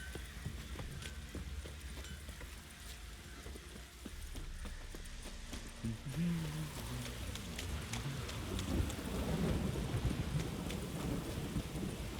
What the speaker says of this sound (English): Midges will bite on account of this downpour.